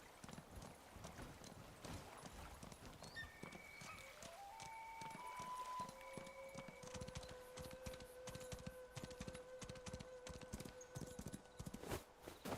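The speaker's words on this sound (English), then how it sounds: "Just, you know, kind of experimenting a little bit with the horse." Horse hooves clip-clop steadily in the game Where Winds Meet, a continuous rhythmic trot heard close, with tonal game sounds layered over it.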